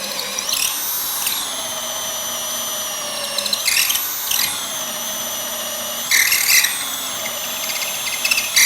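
An electric power drill bores into wood for steel rods, its high motor whine running steadily with brief surges and strain as the bit bites deeper, close and loud with no talk.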